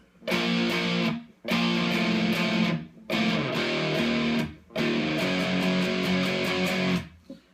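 A distorted electric guitar plays the chopped rhythm part of a song, sustained chords in four phrases separated by short breaks, loud and close.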